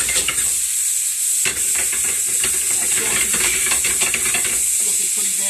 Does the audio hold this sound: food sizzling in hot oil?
yes